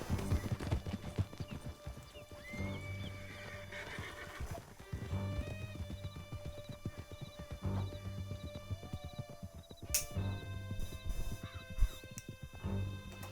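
Horse hooves clip-clop in Red Dead Redemption 2 as a rider moves along, a rapid steady rhythm of hoofbeats with occasional whinnies and game sounds mixed in, fairly quiet overall.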